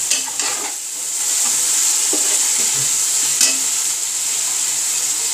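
Chicken pieces sizzle steadily in a hot pot for yakhni pulao, a bright continuous fry with a few soft clinks and stirs, close and without talk.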